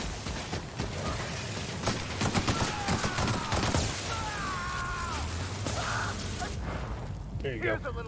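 In The Outer Worlds video game, shotgun blasts are fired at a swarm, with several sharp bursts spread among whooshes and other busy combat noise, played at moderate loudness.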